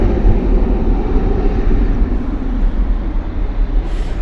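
Jet2 Boeing 737 airliner departing Bristol Airport, a loud steady broadband engine roar that holds constant throughout, heavy low rumble filling the outdoor scene with no talk.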